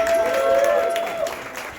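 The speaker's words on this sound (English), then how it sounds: "I just want to get a round of applause for all the roasters." Crowd applause and cheering for the roasters at a comedy roast show, a continuous wash of clapping from a live audience with a sustained whoop or tone riding over it, fairly loud and close.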